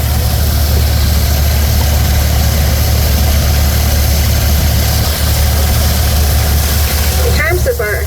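A vintage Cockshutt gas tractor engine runs at a threshermen's show, giving a steady, loud, low idling drone under an unbroken wash of outdoor noise with no clear change in pace.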